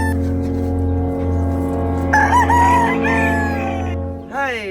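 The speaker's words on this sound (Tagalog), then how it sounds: "Kadaghan na gyud sa akong mga manok ba." Backyard chickens cluck steadily while a rooster lets out a loud, drawn-out crow partway through, followed by rising squawks near the end, all close by.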